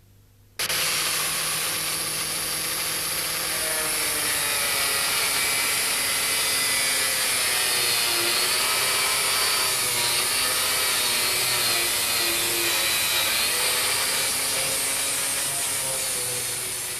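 A power grinder with a soft disc whines continuously against a car body panel, a steady harsh abrasive roar with slight wavering pitch, loud and close, running without pause.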